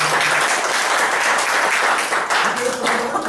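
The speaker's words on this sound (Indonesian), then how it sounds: "Tepuk tangan yang luar biasa buat kita" Loud, dense applause from an indoor office gathering, a steady wash of many hands clapping that fills the whole stretch, with a few voices faintly audible underneath.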